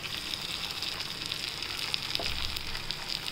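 Fried brinjal pieces cooking in green masala gravy in a pan, a dense, continuous close sizzle and crackle with a faint stirring scrape partway through, no voices.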